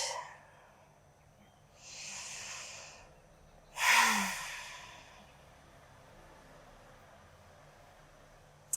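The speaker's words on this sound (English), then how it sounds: "Breathing them in and breathing them out." Slow, deep breaths during a morning yoga and meditation session, two soft drawn-out exhales, the second stronger and closer, followed by quiet.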